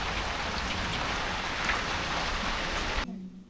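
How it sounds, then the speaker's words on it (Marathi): Heavy rain pouring down outside, a loud dense steady hiss of drops on surfaces that cuts off abruptly near the end. "बाहेर खूप छान पाऊस सुरू आहे"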